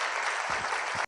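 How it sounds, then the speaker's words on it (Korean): Dense audience applause at a university forum in Korea, a steady wash of many hands clapping that stops abruptly, with faint voices murmuring underneath. "박수로 환영해 주시기 바랍니다."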